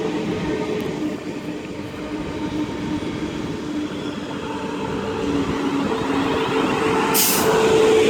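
A train hauled by locomotive 45121 rolls into a platform at Reading station on the Great Western Main Line, a steady low rumble and rail noise that builds gradually as it nears, with a brief hiss near the end.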